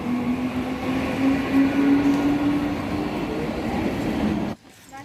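A train rumbles past close by with a steady roar and a high metallic squeal, then abruptly cuts to near quiet at the end.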